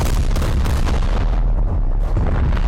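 Heavy naval guns firing in a War Thunder realistic naval battle, a dense, continuous rumble of booming artillery with no clear pauses, loud and sustained throughout.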